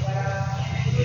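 A young calf in a tin-roofed shed at a cow shelter gives one short, steady, close bleating call that fills the whole moment.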